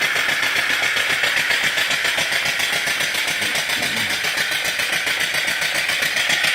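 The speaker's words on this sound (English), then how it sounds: "Of course, the oiler is running the engine, oiling your engine." An antique vertical steam engine with an oiler runs continuously, a steady rapid mechanical chuffing and clatter with an even loudness throughout and no talk.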